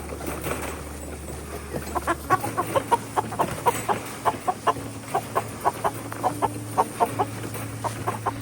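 Chickens cluck repeatedly in short, rhythmic bursts over a steady low hum, fairly close and continuous.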